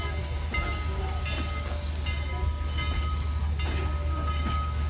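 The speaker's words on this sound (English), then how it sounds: "Train." A passing train in Chattanooga, Tennessee, with a deep continuous rumble and clattering rail noise, plus steady metallic tones above it, loud and close from start to finish.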